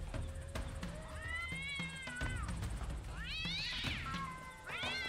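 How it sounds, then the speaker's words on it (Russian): Cats fight outdoors in a garden at night, letting out drawn-out, rising and wavering yowls and caterwauls. The cries are fairly distant and echoing over a low background rumble. "Это какие-то кошки дерутся."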